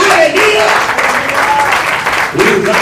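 A church congregation claps hands during worship, a dense, steady wash of clapping with voices mixed in throughout.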